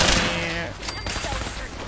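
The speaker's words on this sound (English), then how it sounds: "I love this explosive gun." A single loud, booming blast from an explosive area-damage gun in Fallout 4, with a sharp onset and a rumbling tail lasting about two seconds.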